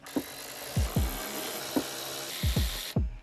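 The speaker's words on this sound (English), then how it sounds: "There's gonna be 4 10mm bolts holding the radio in. We'll unbolt those so we can pull this out." Hand tools working on the 10mm bolts that hold the radio in a Toyota Tacoma, a few scattered ratchety thumps and scrapes up close over a steady background hiss.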